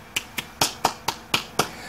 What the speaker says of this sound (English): Now there's some applause I believe I've earned.